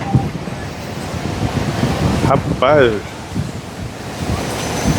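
Strong wind roars and buffets the microphone over crashing surf on a sandy beach, while someone briefly speaks near the middle.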